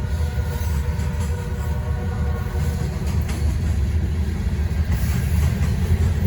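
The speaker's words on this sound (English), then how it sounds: "Still got the high and wide load on the rear of the train." A long Norfolk Southern freight train rolls past close by, hauling a high and wide load at the rear, with a steady heavy rumble and faint clacking of wheels over rail joints.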